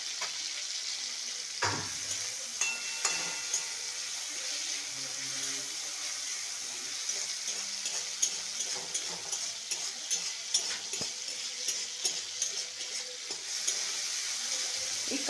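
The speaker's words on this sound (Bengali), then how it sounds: "এই কাঁচা লঙ্কাটা যতক্ষণ একটু হালকা ডার্ক গ্রিন থেকে হালকা গ্রিন হবে ততক্ষণ আমি নাড়তে থাকবো।" Green chili fries in a pan for homemade aloo bati chochori, giving a continuous soft sizzle broken by light scraping stir strokes, close and fairly quiet with no talk.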